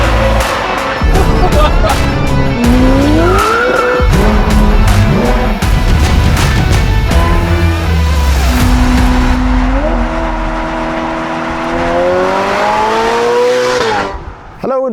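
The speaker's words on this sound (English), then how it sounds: "while driving this car, the Novitec Ferrari F8" A Novitec-tuned Ferrari F8 supercar drifts, its engine loud and near, revving up and down in rising and falling sweeps as the tires squeal through the slides, fading briefly at the end.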